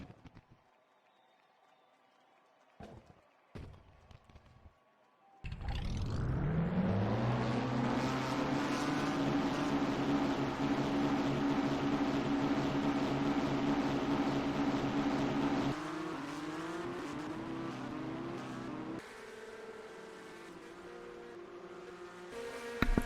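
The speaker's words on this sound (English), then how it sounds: "Drivers, start your engines!" Forty race car engines in the video game NASCAR Racing rumble to life at Daytona and rev together in a loud, sustained roar after a few brief clicks, holding steady before dropping slightly in pitch.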